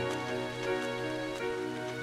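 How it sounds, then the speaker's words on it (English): Steady rain falling in the video game Trails of Cold Steel, a constant soft wash over the town of Trista with faint drips, accompanied by a low background hum throughout. "a rainy spell seemed to hang over Trista."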